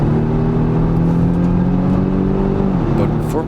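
A 2020 Volvo V60 T8 Polestar Engineered hybrid wagon accelerates hard, its loud engine note climbing steadily in pitch for about three seconds before easing off as the gear changes.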